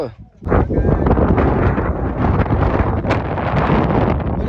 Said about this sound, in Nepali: हावा चाहिँ वाइल्ड चलिरहेछ